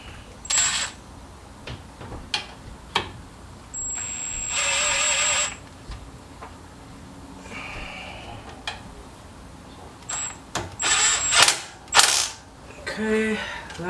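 Hand ratchet tightening a small 10 mm brake line bolt on a Porsche 987 Cayman during front strut work, heard as short clicking bursts spaced irregularly, close and fairly quiet.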